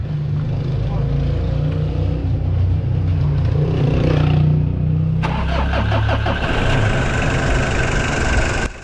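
Mitsubishi Adventure with a 4D56 diesel engine, freshly repaired after a noisy timing-belt replacement, starts and settles into a steady idle, its loud low rumble constant throughout, with a brighter rattling clatter joining midway.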